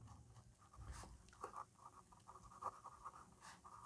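Marker or chalk writing on a board during a Class 10 trigonometry lesson, giving soft intermittent scratchy strokes in short bursts over a quiet room hum.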